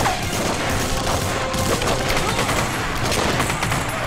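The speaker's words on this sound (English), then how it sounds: "Running low on ammo for my badass machine gun." Machine gun fire rattles in The Punisher video game, a dense, loud, continuous burst of rapid shots with impacts mixed in.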